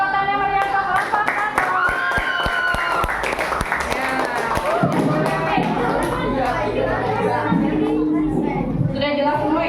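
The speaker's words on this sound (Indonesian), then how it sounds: "Kita beri tepuk tangan yang meriah untuk kelompok" Classroom applause for group 1 in an elementary school Pancasila lesson: a burst of sharp, uneven hand claps from many children close by, mixed with lively chatter and young voices throughout.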